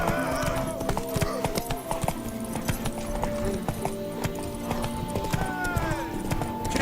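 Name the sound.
horse hooves clip-clopping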